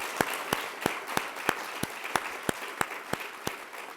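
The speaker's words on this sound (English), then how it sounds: "Let's give a warm round of applause to everybody who made this show possible." Hands clap at a breakfast celebration in a steady, evenly spaced beat of about three sharp claps per second, distinct and fairly close, with no talking.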